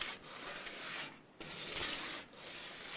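Sandpaper rubs on a Martin HD28 acoustic guitar part in three strokes, each a soft, close, scratchy swish with brief pauses between, and no talk.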